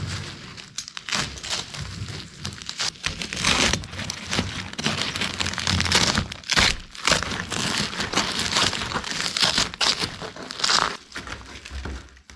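Vinyl roof covering is cut and peeled back toward the seam on a Plymouth Fury, producing irregular close crinkling, tearing and crackling bursts that continue for over ten seconds without speech.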